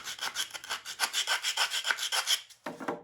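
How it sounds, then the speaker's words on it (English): A sanding block rubs back and forth along the inside edge of a small wooden box, rounding it off in quick, rhythmic rasping strokes, close and fairly loud, with a brief pause near the end before sanding resumes. "I find it really helpful to use the edge of my sanding block"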